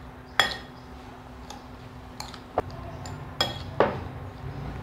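A spoon stirs a fish sauce and chili mixture in a bowl, giving a few scattered clinks and taps of metal against the dish over a quiet background.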